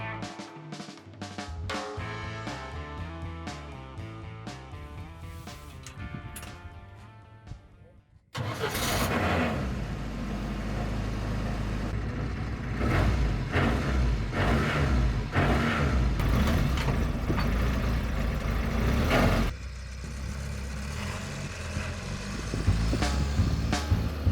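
Homemade Finist ATV engine running as the vehicle drives off over rough dirt, a loud steady motor drone with rising revs and bumps, after a quieter opening with faint noises.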